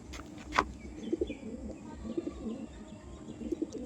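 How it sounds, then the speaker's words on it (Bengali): Soft, low coos from a female green pigeon held in the hand come in short paired bursts at a steady interval, close by. A sharper chirp comes near the start, and a faint steady background hum runs underneath. "আমার হাতে রয়েছে একটা মাদি সবুজ পায়রা"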